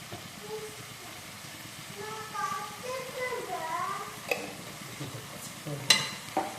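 Soft sizzling and stirring of onions and tomatoes frying in a pan, with a steady hiss and occasional sharp clinks of a utensil against the pan.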